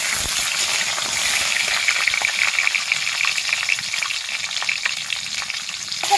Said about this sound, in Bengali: দিয়ে এগুলোকে হালকা হালকা করে আমি ভেজে নেব